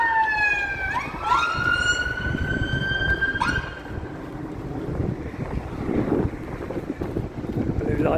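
An ambulance siren on a street in Croydon, London, wailing up and down in pitch over a few seconds amid wind buffeting and traffic noise, then fading under general street rumble.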